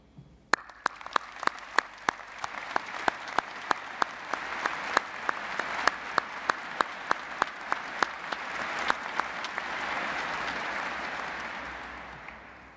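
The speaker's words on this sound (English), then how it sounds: "perhaps maybe best start by applauding our graduands" Graduation ceremony audience applauding graduands, a few crisp nearby claps standing out in steady rhythm over a broad hall full of clapping that swells and then tapers off.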